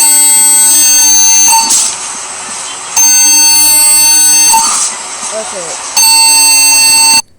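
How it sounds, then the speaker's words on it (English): Emergency Alert System alarm tone: loud, steady harsh two-tone buzzing in three long bursts with short breaks, a voice speaking briefly in the gaps. "EAS alarm."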